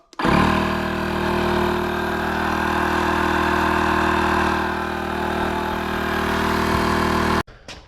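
A Vogma electric SUP pump drones steadily while inflating a paddle board, a loud constant motor hum that starts abruptly, holds for about seven seconds, then cuts off.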